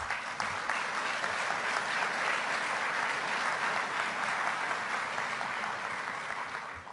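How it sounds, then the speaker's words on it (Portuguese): A seated audience applauds a government minister after a speech, steady dense clapping at moderate volume lasting throughout and tapering slightly at the end, with no voices over it. "Portanto, podem aplaudi-lo mais uma vez."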